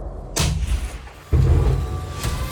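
Two heavy artillery booms land about a second apart in Bakhmut, each a deep thud followed by a long low rumble that lingers in the open air.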